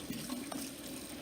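Tap water runs steadily over a Philips air fryer part being rinsed at a sink, a soft continuous splashing stream close by without talk.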